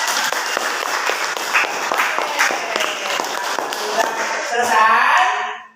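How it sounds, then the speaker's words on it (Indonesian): Seventh-grade schoolchildren clap together in a classroom, a close, lively patter of hands with some sharper individual claps, fading out at the end as voices begin. "sekali lagi tepuk tangan dulu"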